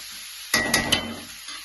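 Onions frying in oil for a country chicken fry: a sudden burst of sizzling with three quick stirring scrapes close by, settling into a quieter fry.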